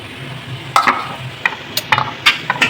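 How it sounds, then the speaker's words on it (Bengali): Goat meat is stirred and sautéed in a pan: a few sharp scraping strokes of a spoon break in over a faint, low sizzle, close and uneven. "এখন কষানো হচ্ছে মাংস।"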